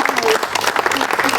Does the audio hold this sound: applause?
yes